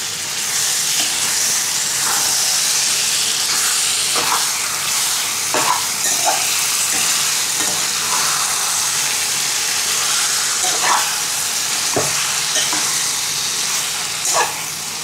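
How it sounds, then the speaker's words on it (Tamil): Prawns frying in a pan with tomato and onion for eral thokku, a steady broadband sizzle with occasional stirring clinks and scrapes throughout, close and fairly loud. "இப்போ இறால் அதை போட்டுடணும் உள்ளே, இறால் உள்ளே போட்டு அப்படியே நீங்கள் கொஞ்சம் நேரம் தளரணும்."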